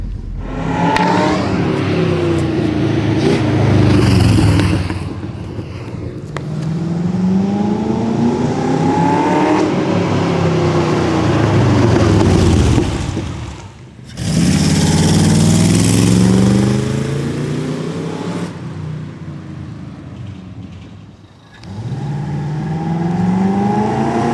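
A bodybuilt Corvette C3 accelerates hard, its engine rising in pitch through repeated revs, dropping at each gear change, then climbing again, loud and close from inside the car, with no speech over it.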